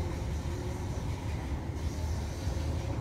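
A train runs along the line toward Rugeley Trent Valley, heard from inside as a steady low rumble and rattle of wheels on track, with no voices.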